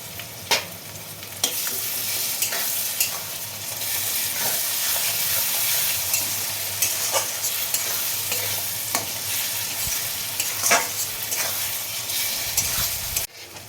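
Stone-ground ginger and garlic paste frying in oil for mutton, a loud continuous sizzle with scattered sharp scrapes and knocks of stirring against the pan, ending abruptly.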